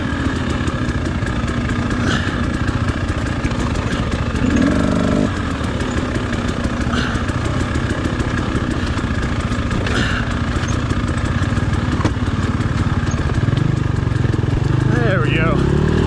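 A dirt bike engine drones loudly and continuously on a rough mountain trail near Big Bear, revving and bogging as the rider stands and lets the bike float over bumps, with wind buffeting throughout.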